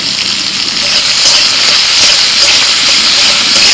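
Curry leaves, chopped tomato, cardamom, cinnamon, cloves and whole coriander hit hot oil, a loud, steady hissing sizzle that holds without pause, close and uninterrupted by speech.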